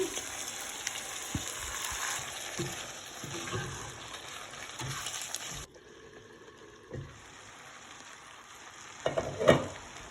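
Rice and chana pulao frying and being stirred in a pot, a soft steady sizzle with scattered scraping stirs, fairly close and quiet, fading lower midway before a few louder clatters near the end.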